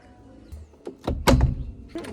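The front door of a house opens with a couple of solid thunks and a latch clatter, close by, with faint background voices around it.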